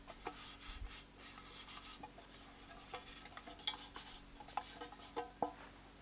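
A hand rubs flour around the sides of a metal baking tray while cooking in the bush, making soft, faint scratchy rubbing with light taps, close and quiet.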